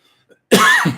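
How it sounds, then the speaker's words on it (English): A single harsh cough bursts out loud and close after a brief near-silence, trailing off quickly. "And now I'm coughing"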